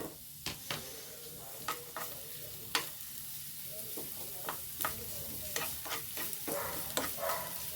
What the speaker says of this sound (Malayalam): ഇനി ഞാൻ വേറൊരു പാൻ വയ്ക്കുന്നു ചെറിയ ഒരു അല്ലി വെളുത്തുള്ളി എടുത്തിരിക്കുന്നു പിന്നെ ഒരു കഷ്ണം സവാള ഒരു ചെറിയൊരു കഷ്ണം ഇഞ്ചി ഇതൊന്ന് നമുക്ക് വാട്ടിയെടുക്കാം